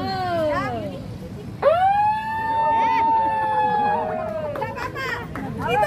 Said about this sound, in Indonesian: itu adalah suara sirine